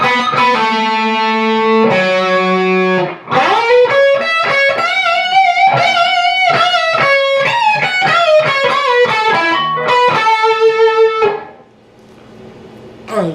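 A distorted electric guitar riff from the intro of a song, with bent, sustained notes and quick runs, loud and clear, ending in a fading held note.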